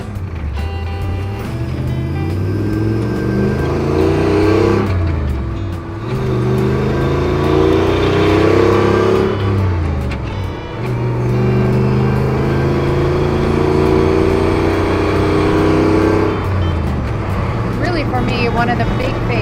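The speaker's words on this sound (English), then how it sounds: "underneath the hood is an SRT-8 with a lot of get up and go power" A 1966 Jeep Super Wagoneer restomod with an SRT-8 Hemi V8 of 485 horsepower revs and accelerates through rising gear pulls, loud and close, its engine note climbing repeatedly with brief dips between shifts.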